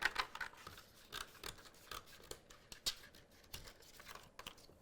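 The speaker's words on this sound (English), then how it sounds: "I'm going to grab my scissors, cut off this excess backing" Quiet, crisp snipping and rustling, a few sharp scissor cuts through vinyl backing scattered through close, soft crinkly handling sounds, no talking.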